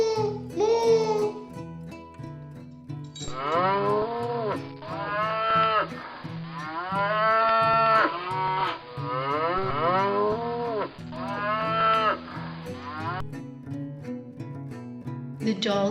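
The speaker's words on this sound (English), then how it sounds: "The cow sounds as moo, moo, moo." A cow moos repeatedly in long, drawn-out calls with short pauses between them, loud and close, with no talk over it.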